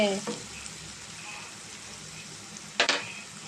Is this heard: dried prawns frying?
yes